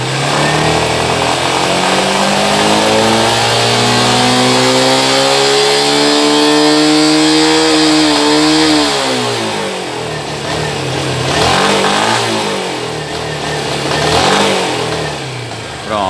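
A 2015 Honda NXR 160 Bros ESD motorcycle engine, warm and misfiring at high revs, revs loudly and close up, climbing in pitch, then stumbling and dipping unevenly as it hesitates, with the throttle blipped again near the end.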